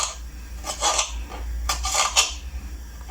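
A knife slices ingredients on a chopping board while preparing Jamaican macaroni and saltfish, giving scraping, rasping strokes in short irregular bursts, close and fairly quiet, with a low background hum.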